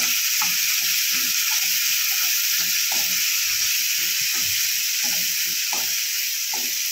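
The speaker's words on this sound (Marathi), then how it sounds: "हिरवी मिरची आणि लसूण छान तेलात परतून घेतली की भाजीला छान सुगंध येतो।" Green chillies and garlic fry in hot oil for a fenugreek vegetable dish, with a steady, bright sizzling hiss throughout and soft, repeated stirring thumps beneath it.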